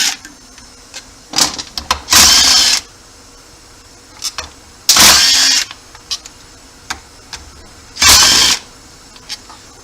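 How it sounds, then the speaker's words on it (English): Ratcheting socket wrench loosening the fuel tank bolts on a 1972 outboard motor, heard as three distinct bursts of bright mechanical clicking spaced a few seconds apart, with small taps and handling noises between. "Now we'll finish removing the other 4 tank bolts"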